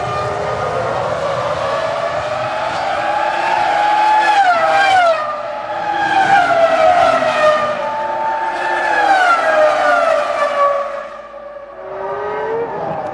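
Formula 1 cars at the 2002 Malaysian Grand Prix scream past one after another, loud high-pitched engines sweeping down in pitch as each approaches turn 15 and brakes from about 190 mph, overlapping and fading.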